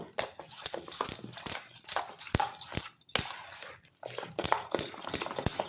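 Lentil batter for dahi bara is whisked hard by hand in a bowl, giving rapid irregular clacks and taps close by, with a few short pauses between bursts.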